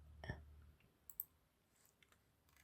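A single soft computer mouse click on a download button, faint and close, followed by a couple of tiny clicks in near silence.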